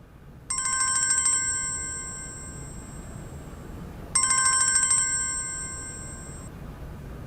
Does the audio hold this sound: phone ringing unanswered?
yes